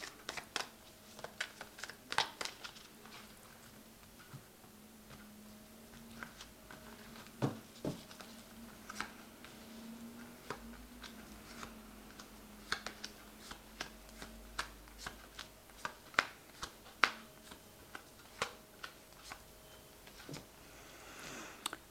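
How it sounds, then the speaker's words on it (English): A tarot deck is handled quietly indoors, with soft scattered card flicks, taps and shuffling rustles spread over a long stretch, faint and close with no voices. "Now I have shuffled this deck."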